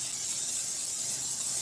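Cooking spray hisses steadily from a can into a pan while preparing Buldak ramen, a constant airy, fairly soft spray lasting the whole moment.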